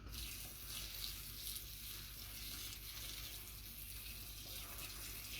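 Water pours steadily onto newly potted plants in a garden, a continuous soft splashing and trickling hiss that stays even throughout, with no talking.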